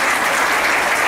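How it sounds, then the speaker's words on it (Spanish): Steady, dense applause from an audience at a church service, loud and continuous for the whole short stretch with no voices over it. "Dale un fuerte aplauso."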